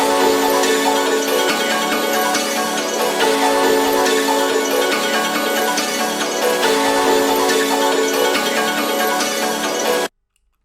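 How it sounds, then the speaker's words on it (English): A chopped music loop, run through Shaper Box, pitched up and played at halftime, plays loud and dense with bright tonal layers and a steady pulsing rhythm for about ten seconds, then cuts off abruptly. "I put shaper box on it, and I grabbed that, pitched it up, duplicated it,"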